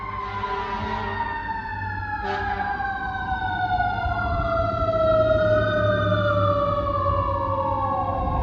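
An emergency vehicle siren wails outside, loud and continuous, its pitch rising and falling in long sweeps and then a steady tone, with no talking.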